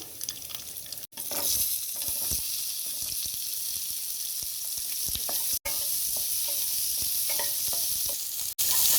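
Sliced onions sautéing in a hot pan for a Punjabi-style chicken gravy, a steady close sizzle with scraping stir strokes throughout and a few brief breaks where the sound cuts out.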